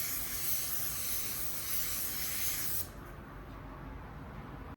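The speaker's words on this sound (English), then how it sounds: "let's throw our first coat of clear on both of our spray out cards." A spray gun hisses out clear coat onto spray-out cards in one loud, steady burst for nearly three seconds, then cuts off, leaving quieter room noise.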